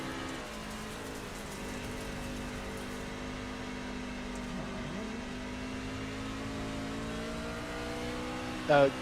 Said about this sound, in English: you can hear his throttle controls way different. He's not full throttle at all ever.